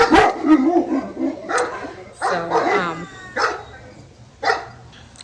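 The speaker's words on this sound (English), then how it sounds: "I needed to let them bark it off" Several dogs bark in repeated short bursts outdoors at a home daycare, loud and close, with a voice speaking briefly between the barks.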